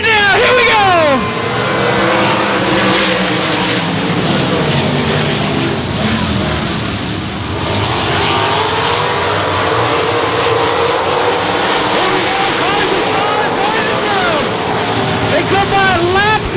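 ASCS sprint race cars roar off together at the green flag at Shady Oaks Speedway, a loud continuous engine drone with rising pitch sweeps as the field accelerates, heard alongside crowd noise and a track announcer.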